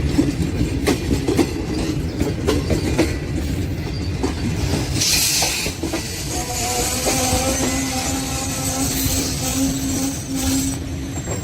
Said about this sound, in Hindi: ये देखिए स्लो मूविंग है, ग्रीन लाइन एक्सप्रेस जा रही है ये रावलपिंडी की तरफ।